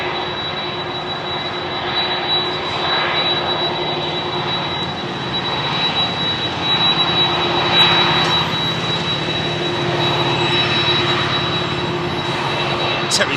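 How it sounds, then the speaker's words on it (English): A Delta Boeing 767 jet takes off at London Heathrow, its sustained engine roar swelling and holding strong, with a steady high whine running across it and faint voices underneath. "767 Delta landing, 767 Delta taking off"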